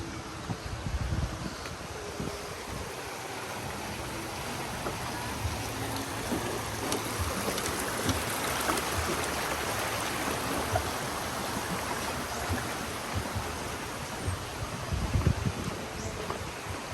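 A river rushes steadily in open countryside, a constant broadband wash of water with light wind buffeting and a couple of brief low thumps near the start and end.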